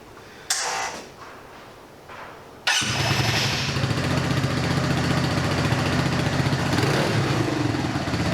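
A 2018 Hanway HS retro scrambler motorcycle is started on its centre stand. A few cranking attempts are followed by the single engine catching and settling into a loud, steady, close idle with no talking over it.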